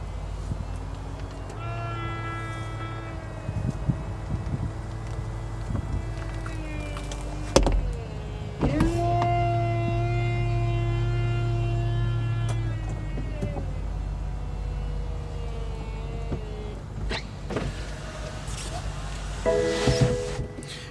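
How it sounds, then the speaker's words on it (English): A 2017 BMW 650i Cabriolet M Sport with a V8 closes its retractable top: a steady electric motor whine and hum runs in long stretches, with a couple of clunks as the mechanism shifts and latches near the end. "push the button up. Top starts coming up."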